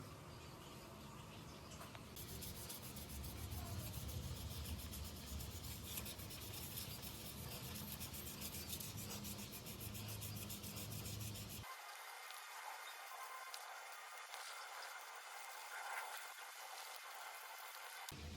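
Close, steady rasping of hand sanding on a 370cc motorcycle engine piston, a continuous rubbing scrape that changes texture partway through, with no speech.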